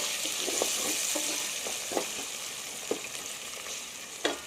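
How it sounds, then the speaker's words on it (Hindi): Red tomatoes fry in garlic ginger paste in a pan for a Punjabi mixed dal, a steady close sizzle broken by a few soft stirring clicks and scrapes. "लहसुन अदरक का पेस्ट अच्छी तरह भून चुका है। अब इसके अंदर हम लाल टमाटर ऐड करेंगे।"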